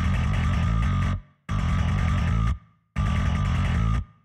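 Virtual bass instrument from a sample library alternating between an open note and a fretted note, played with index and middle finger, heard as three sustained repeated phrases with short silences between.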